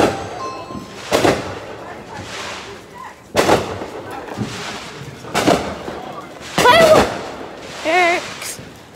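Fireworks going off outdoors in a string of sharp booms, about five loud bursts spread over several seconds, some trailing a brief whistle or crackle, with children's and adults' voices faintly between them.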